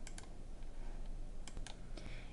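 Steady typing on a computer keyboard while crafting a resume in an online builder, with quick clustered keystrokes and clicks at close range throughout, no voices.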